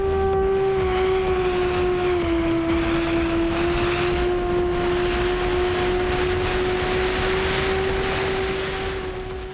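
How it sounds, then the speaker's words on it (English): A Finwing FPV Traveler hand-launched foam RC plane flying, its electric motor and propeller giving a loud, steady droning whine with a strong sustained tone that dips slightly in pitch and then holds, nearby and continuous, with no voices. "This is the easiest hand launching plane I've ever flown."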